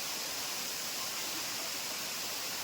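Water at Boddugudem waterfall pours down in a steady, even rush of broadband noise, heard from a short distance without any voices.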